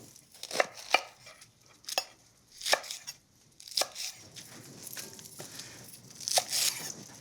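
A knife chops through radicchio trevisano on a board, slicing it into slivers in irregular crisp cuts, some single and some in quick pairs, with soft leafy rustling between strokes and no talk.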